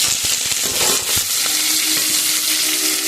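Spices, green chillies, onion and curry leaves hit hot oil for a tempering, making a loud, dense, continuous sizzle up close with crackling pops near the start.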